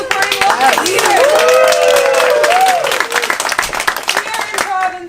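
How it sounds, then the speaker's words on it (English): Audience applause at a climate change comedy night in Provincetown, a steady wash of clapping from a crowd lasting several seconds, with some whoops and voices mixed in. "A big round of applause to you guys for supporting local leaders."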